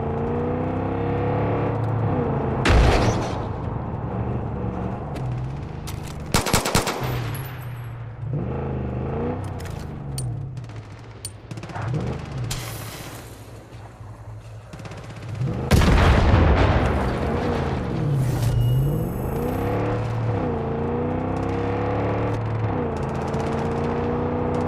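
Far Cry 5 gameplay carries loud gunfire and booming blasts in scattered bursts, heard over a droning engine and other game noise, while enemies are shot down.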